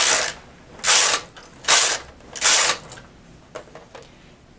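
A knitting machine carriage is pushed across the needle bed for rows of a cluster edging, making four loud rasping, sliding passes in an even rhythm, then a few lighter clicks at the end.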